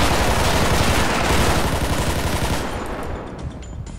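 Dense, sustained rapid gunfire in a GTA V police shootout crackles throughout, loud and continuous at first, then thins out and fades somewhat toward the end.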